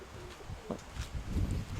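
Soft, low cooing from pigeons, including a speckled dove, at a pigeon seller's loft, faint and brief against a quiet hum, with no talk over it.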